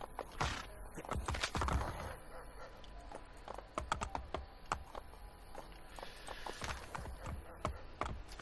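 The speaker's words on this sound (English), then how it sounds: "I'm so glad I just caught a horse." Horse galloping in the game Assassin's Creed Brotherhood, rapid rhythmic hoofbeats clattering close by with sharp percussive impacts and some game ambience, no speech.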